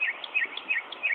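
A mockingbird sings, running through mimicked calls of other birds in bright, high phrases that repeat in quick bursts roughly every third of a second, fairly clear over a soft background hiss.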